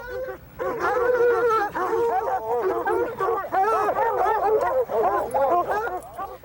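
Several dogs bark, yip and whine almost nonstop at close range during tracking practice, overlapping excitedly with no pauses, loud and busy throughout.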